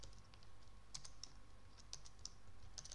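Keystrokes on a computer keyboard while entering code into a Python interactive shell, a scattered run of light, close clicks with small gaps, quiet against a soft background hiss.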